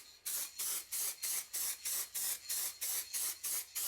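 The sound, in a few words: spray paint can spraying in short bursts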